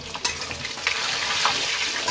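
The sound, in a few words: onion frying in oil with salt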